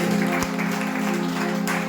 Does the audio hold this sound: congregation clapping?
yes